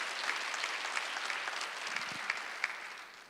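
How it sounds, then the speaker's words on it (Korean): A church congregation at a Korean Sunday worship service claps in a soft, distant patter that stays even throughout, with a couple of sharper claps standing out and a brief low thump near the end. "박수를 안 하세요"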